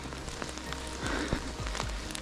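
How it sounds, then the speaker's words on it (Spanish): Steady rain falls outdoors at the Chavín de Huántar ruins in Huari, Peru, a dense, even patter with a few heavier drops standing out, and no one speaking. "Y como ven, mira, está lloviendo."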